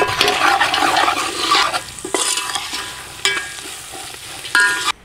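Thick tamarind pulihora paste stirred in a pan with jaggery, salt and turmeric, wet squelching and bubbling with sharp spoon scrapes and taps against the metal, close up and with no talking.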